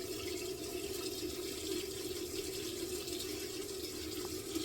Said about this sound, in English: I'm gonna leave that water running because I'm gonna just keep turning it on and off.